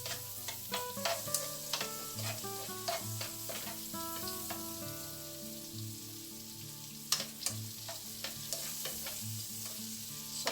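Onion rings fry in a pan with steady sizzling, punctuated by sharp clinks and scrapes of a utensil stirring, close and fairly quiet, with no talking.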